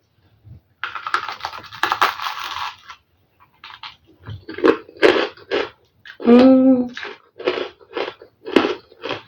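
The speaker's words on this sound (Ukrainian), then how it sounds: "Ви чуєте цей хруст?" Repeated crisp crunching bites into a hot pepper, several bursts in an uneven rhythm, close up, with chewing sounds between them and no talking.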